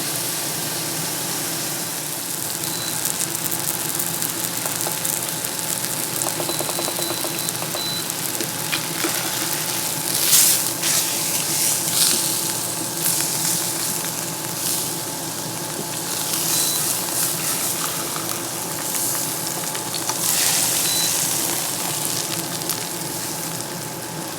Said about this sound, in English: We're going to let this sear about 6 minutes on each side.